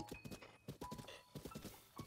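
Horse hooves clip-clop across the ground in The Legend of Zelda: Breath of the Wild, a quiet, rhythmic run of hoofbeats in quick bursts with short pauses between them.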